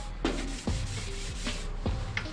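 Foam sanding pad rubbing over flat primer paint on a 1949 Jeep Willys body panel, a soft, close scratchy swishing in repeated back-and-forth strokes.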